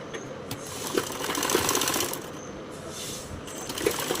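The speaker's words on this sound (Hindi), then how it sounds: "अब हम यहाँ पे दोनों की मुड्ढे की स्टिचिंग करेंगे।" Sewing machine stitching the shoulder seams of a belt princess-cut blouse, front joined to back with a double seam; a steady close whirring run of stitches, slightly louder in the middle, with no talk over it.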